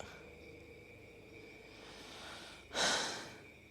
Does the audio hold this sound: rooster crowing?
no